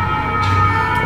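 A fire truck siren wails steadily and loud over continuous traffic noise in a city setting, with no talk.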